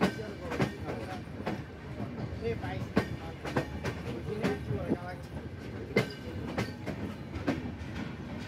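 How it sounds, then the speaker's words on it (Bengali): A passenger train pulls into the platform at Khulna station in Bangladesh, its carriages rumbling and clattering continuously with sharp metallic knocks at irregular intervals, while people talk in the background. "অল্প কিছু সময় পর আমাদের ট্রেন যাত্রা শেষ হবে। আমরা অলরেডি খুলনা স্টেশনের প্ল্যাটফর্মে চলে এসেছি।"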